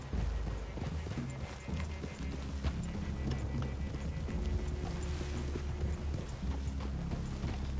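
Horses clip-clop at a walk in the Red Dead Redemption 2 video game, a steady soft hoof rhythm over a low outdoor ambience, fairly faint and without clear neighs.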